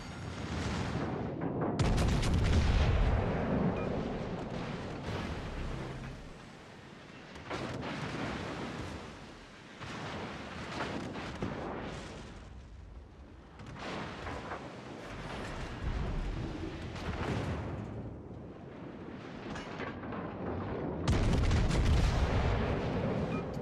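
Heavy naval ship guns in a video game boom out in several deep, rumbling blasts. Each report rolls and fades into a low echoing wash before the next one lands.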